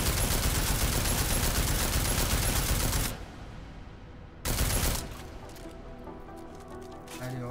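Rapid bursts of gunfire from Deus Ex: Mankind Divided: a dense, loud volley for about three seconds, a pause, then another short burst, with lighter game sounds and a voice trailing after.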